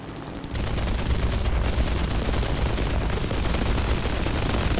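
Aircraft guns on a Do-217 J-2 heavy fighter in War Thunder open up after a brief lull and keep hammering in a dense, continuous burst over a steady engine roar, loud and close for the whole stretch.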